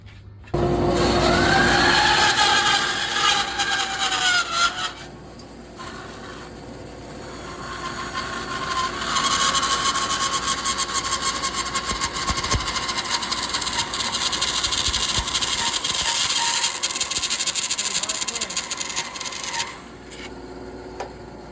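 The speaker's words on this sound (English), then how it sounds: "Dust collector." A dust collector runs steadily in a woodworking shop where hardwood is being worked for a ukulele build, giving a loud, continuous broadband roar with a brief dip partway through before the noise resumes and holds.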